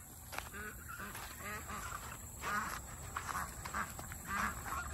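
Farm geese and ducks being fed watermelon outdoors, honking and quacking in a busy, moderately close chorus of overlapping calls with a steady background hiss.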